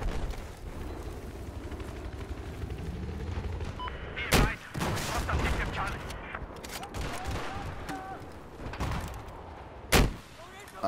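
Battlefield 4 gunfire cracks out in sharp loud bursts, with two heavy shots standing out among scattered rapid fire and rumbling battle noise while voices talk over the action.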